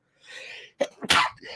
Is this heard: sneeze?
yes